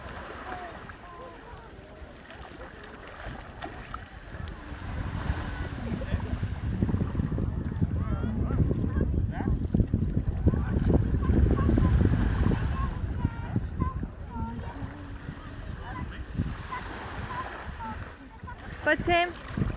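Ocean waves wash and break on a Tenerife beach in a steady roar of surf with wind noise, swelling in the middle. Adults and children talk over the water throughout.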